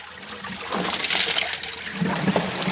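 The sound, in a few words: water draining out of a large gold sluice box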